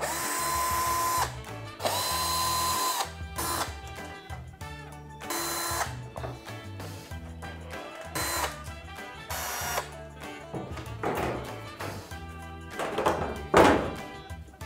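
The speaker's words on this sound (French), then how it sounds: "Je vais en profiter pour aussi enlever les vis arrière de chaque côté." Power screwdriver removing the rear screws from the side panels of a dishwasher, loud close bursts of whirring motor separated by short pauses and clunks, repeated several times.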